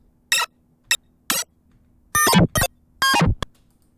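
A string of short synthetic bursts and bleeps, some sweeping downward, spaced irregularly with silent gaps, crisp and close.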